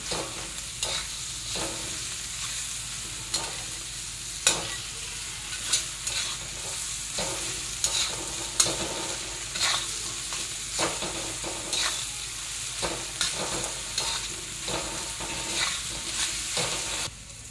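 A spicy pea thecha mixture is sautéed in a pan, with a constant low sizzle broken by regular rhythmic scrapes and taps of a spatula, close up and without voices.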